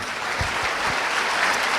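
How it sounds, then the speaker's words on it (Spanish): A church congregation applauds during a Christian sermon, a continuous even patter of many hands at moderate distance, with no pauses across the short stretch. "Un aplauso al Señor"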